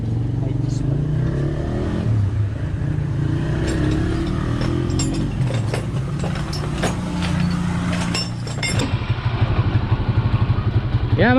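Rusi 125 motorcycle engine converted to 150cc on a stock head, running nearby with a clattery idle and some revving, then a faster, pulsing putter near the end, with someone talking over it.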